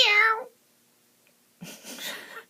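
A kitten's high, clear meow rings out close up, followed by a pause of near silence and then quieter, breathy rustling and faint sounds.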